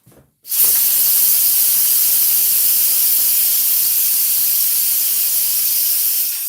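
Pressure cooker venting steam after cooking split pea soup: a loud, steady hiss starts abruptly after a brief faint sound and holds continuously, fading slightly near the end.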